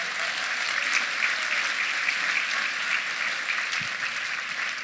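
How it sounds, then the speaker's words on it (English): An audience at a keynote talk claps steadily, a dense, even wash of applause throughout with no pauses, moderately distant. "let's give Nate and his group a round of applause"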